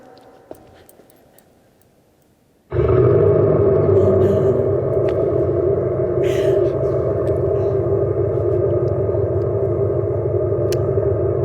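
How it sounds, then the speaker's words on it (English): An Abarth 500e electric car's external sound generator switches on abruptly after a quiet start, then holds a loud, steady synthetic engine-like drone with a deep humming rumble that continues unbroken to the end. "under here, there's some kind of sound generator that projects sound outside the car"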